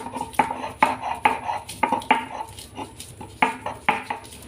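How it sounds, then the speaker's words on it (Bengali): Garlic being ground on a stone grinding slab (shil-nora) with a stone roller: a close series of sharp knocks and scrapes in an uneven rhythm, a few per second, with short pauses. "আমি শিলনোড়া দিয়ে বাটছি"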